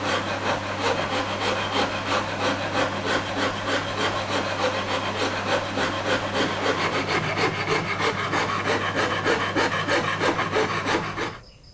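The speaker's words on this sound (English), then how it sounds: "I've filed pretty much to the line all the way up, except around the transitions around the heel" A rasp files the wooden neck of a Stratocaster guitar under construction, roughing out the shape with fast, continuous back-and-forth rasping strokes, loud and close, with no talking, stopping abruptly at the end.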